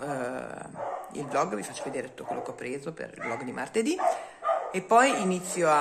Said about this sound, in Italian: scusate i cani, ma ci sono i bambini che giocano e i cagnoloni abbaiano.